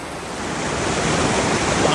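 Rushing river water at a spunky trail river crossing on the Appalachian Trail, a loud, steady broadband roar that swells slightly and continues without pause, close by and with no voices.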